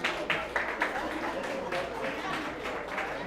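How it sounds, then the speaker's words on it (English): Audience applause at a women's excellence awards ceremony, a steady bed of clapping from a crowd with a few sharper bursts, running under a speaker's voice throughout. "Please give her a round of applause,"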